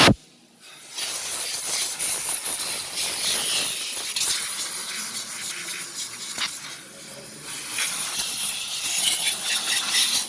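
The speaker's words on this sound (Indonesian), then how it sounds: "Kita akan bersihkannya menggunakan alat pembersih angin." A compressed-air blower cleans rusty, dirty brake shoes on a vehicle during routine servicing, giving a loud, continuous hiss that surges and dips in short blasts for about ten seconds.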